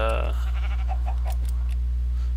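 A sheep in the Minecraft video game gives a short bleat at the start, heard over a steady low hum with a voice talking throughout.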